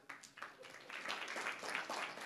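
A literary festival audience claps in scattered bursts that build to steady applause, moderately distant and soft, with a faint voice underneath.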